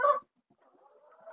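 A short loud squawk from a chicken, then quieter warbling clucks trailing off, close by.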